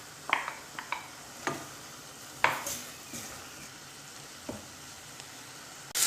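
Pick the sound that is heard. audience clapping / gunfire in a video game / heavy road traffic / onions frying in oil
onions frying in oil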